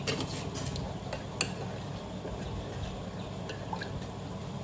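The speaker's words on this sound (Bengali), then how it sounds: "প্রায় আমি 4 চা চামচ মতন নারকেলের গুঁড়ো এর সাথে আমি মিশিয়ে দিলাম" A spoon stirs dry coconut powder with sugar in a bowl, a faint, soft scraping with a few light clicks against the dish.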